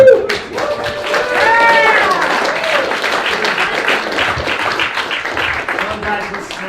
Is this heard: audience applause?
yes